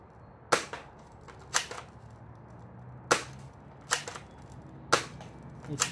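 A JF 34s AK toy rifle fires single shots at a target, seven sharp snapping cracks spaced about a second apart with short echoes between them, close and alone against a quiet outdoor background.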